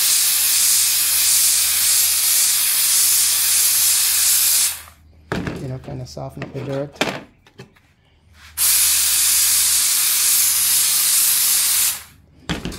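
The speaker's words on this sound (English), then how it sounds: "steam cleaner, and I just steam him down" A loud, steady hiss from a steam cleaner sprays continuously during a Revox B77 MK II restoration, stops while someone speaks briefly, then resumes with the same harsh rush.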